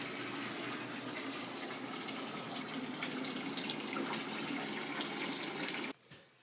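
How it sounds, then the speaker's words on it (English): A faucet runs steadily into a sink, a continuous close rushing and splashing of water that fills it for about six seconds before cutting off abruptly into near quiet. "Oh no, the sink's filling up with water again."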